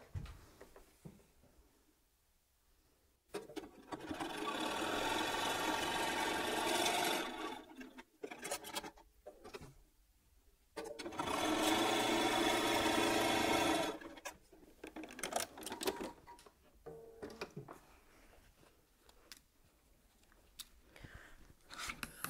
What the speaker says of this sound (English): I'm going to go back to the machine and I'm going to sew a quarter of an inch either side of that line